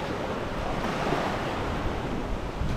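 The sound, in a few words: ocean waves at Natago Beach, Guimaras Island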